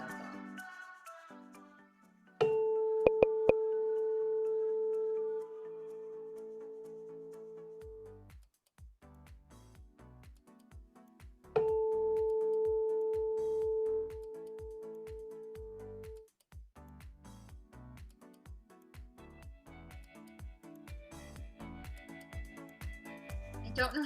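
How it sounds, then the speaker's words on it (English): Playful, silly music played back during a class, with long sustained electronic tones laid over a steady, bouncy percussive pattern, moderately loud. "Can you guys hear the silly music?"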